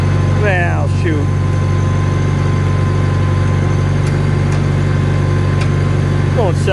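A Farmall tractor engine runs with a steady low idling drone, loud and constant throughout, with a few faint squeaks over the top.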